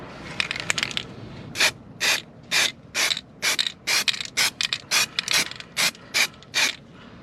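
Short, close hissing bursts of 2-in-1 primer filler from an aerosol spray can, sprayed onto a dry surface in a Mazda RX4 engine bay, about a dozen in a steady rhythm after a brief opening burst.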